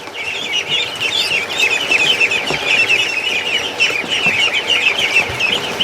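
A Chinese goose calls among farm fowl, a steady run of honking, clucking calls close by with a bit of wing and body movement mixed in and no talking.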